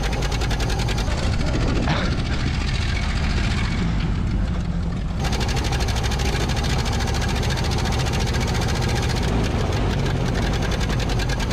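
A 1931 Ford Model A engine runs loudly and steadily while the car is driven, with a constant rough, knocking drone that briefly dips in level before resuming.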